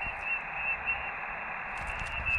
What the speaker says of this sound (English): So right now you can hear some noise coming from the radio